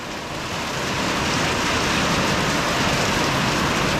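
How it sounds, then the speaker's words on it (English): Heavy rain from a storm pours in a dense, steady hiss that swells slightly and stays loud and unbroken throughout. "Yeah, it's raining."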